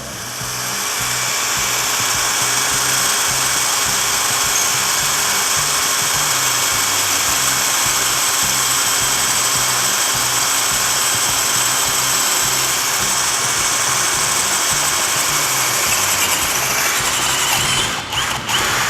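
A PUMPKIN cordless drill, model 50271/XT-10IDBL, bores through steel in low-speed gear, a loud continuous motor whine with grinding bit contact held steady for nearly twenty seconds before it stops, with no talking.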